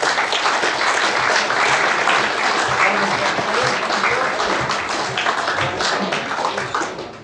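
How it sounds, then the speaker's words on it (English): A studio audience applauds cricketer Scott Borthwick, dense sustained clapping that stays loud and continuous for several seconds before tapering slightly at the end. "should we give him a round of applause and get him on"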